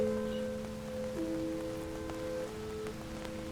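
Steady rain in the visual-novel game Doki Doki Downpour falls as a soft, continuous patter with faint drop hits, sitting under sustained tonal game music.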